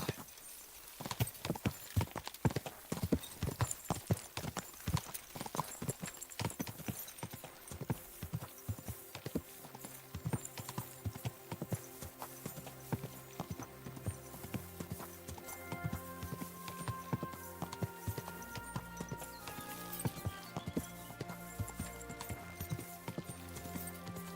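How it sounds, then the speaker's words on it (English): Horse hooves clip-clop steadily and close in Kingdom Come Deliverance II, a brisk galloping rhythm at first, then settling under tonal game music, with a brief whinny-like call. "This horse must have cost a pretty groschen."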